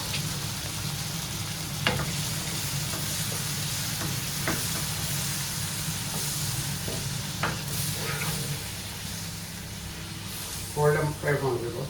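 Chicken bhuna masala fries in a pan after a cup of yogurt goes in with the roasted masala and softened tomatoes, giving a steady close sizzle with occasional stirring scrapes throughout.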